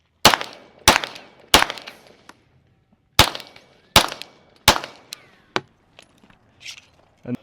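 An unsuppressed pistol fires three sharp, loud shots with supersonic rounds, then after a pause three more with subsonic rounds, each crack ringing off briefly, followed by quieter metallic clicks and handling noises at an outdoor range.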